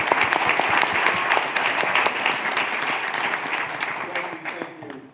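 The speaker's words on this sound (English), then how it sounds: "Let's give them a round of applause and thank them." An audience at a leadership summit claps for guests on stage in a loud, sustained round of applause, with voices mixed in beneath the clapping.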